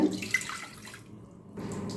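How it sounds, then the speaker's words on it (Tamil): Two cups of water pour steadily into a pot, a close splashing gush that stops briefly partway through and then resumes. "ரெண்டு கப் தண்ணி விட்டுருக்கேங்க"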